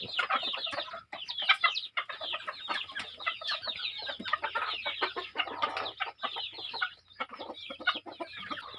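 A farm flock of mixed-breed chickens, Thai hens crossed with a Leghorn rooster, clucks and squawks continuously in busy, overlapping bursts at moderate distance, with no voices.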